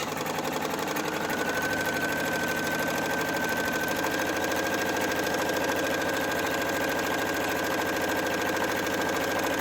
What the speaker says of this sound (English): I'm sewing this from the back so I can kind of keep an eye on that seam